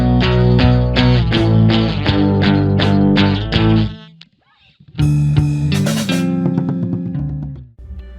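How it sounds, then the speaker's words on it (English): A rock drum beat alternates kick and snare on every beat under a distorted full-band arrangement. The steady pulse drops out briefly midway, then resumes loud and driving. "The drummer is simply going to alternate between the kick and the snare on every beat."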